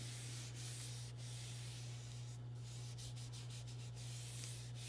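Paper being rubbed over a painted surface gives a steady, soft scraping hiss with no pauses and a few quick strokes near the end, up close and alone, over a constant low hum.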